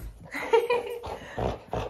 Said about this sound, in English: I love that the growls are only for when I'm not holding it.